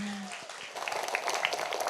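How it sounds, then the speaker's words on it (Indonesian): An audience at an SD Pusri Palembang teachers' event breaks into applause, scattered clapping building after a brief voice, moderately near. "Tepuk tangan dong."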